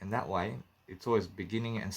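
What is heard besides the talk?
No distinct noise like a dog, phone or traffic.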